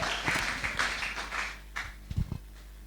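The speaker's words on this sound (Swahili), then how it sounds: "Pigia Yesu makofi" A church congregation clapping hands for Jesus, a burst of overlapping applause that fades out, followed by a few scattered individual claps.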